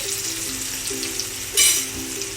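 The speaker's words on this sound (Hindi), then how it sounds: "जीरा हल्का भुन गया है, इसमें अभी मैं ये अनियन ऐड कर रही हूँ" Chopped onions hit hot oil with lightly roasted cumin seeds in a pan over high flame for brinjal bharta, giving a steady close sizzle with a brief louder crackling burst partway through.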